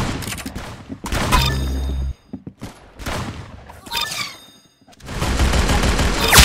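Roblox Arsenal gunfire comes in loud close bursts of rapid shots, separated by short gaps, with one final long volley.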